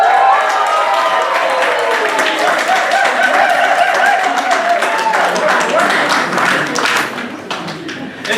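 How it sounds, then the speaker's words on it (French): Wedding guests at a civil ceremony clapping together in a room, a sustained round of applause with scattered chuckles and voices mixed in, fading slightly at the end. "Alors tout le monde applaudit, vous applaudissez."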